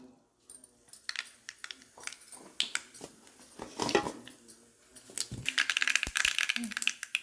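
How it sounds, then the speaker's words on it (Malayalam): Mustard seeds tossed into hot oil for a chicken curry tempering crackle and pop in quick, sharp bursts that grow denser and busier over several seconds. "ചൂടായ എണ്ണയിലേക്ക് നമുക്ക് കടുക് ഇട്ട് കൊടുക്കാം"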